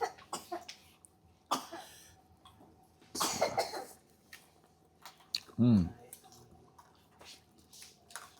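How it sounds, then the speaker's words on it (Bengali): A person coughs in two or three sharp, fairly loud bursts during a seafood meal at a restaurant, with quieter gaps of background murmur and faint eating sounds between them. "দেখো তোর কি হয়েছে, কাশতেছে"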